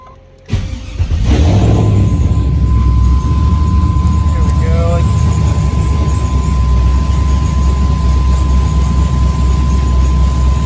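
An LS-swapped third-gen car engine, running lean at idle, catches and settles into a steady, loud idle that drones on close by without a break.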